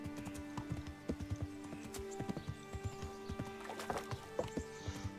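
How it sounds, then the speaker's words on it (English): Horse hooves gallop with a steady clip-clop in the medieval game Kingdom Come: Deliverance, punctuated by thumping landings from jumps and a brief whinny, close and moderately loud. "Pebbles, you're the best horsey ever. Look at those mean jumps."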